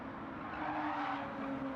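Race car engine in the Gran Turismo 7 video game, held revving in second gear: a steady, sustained engine drone with a faint whine and no break.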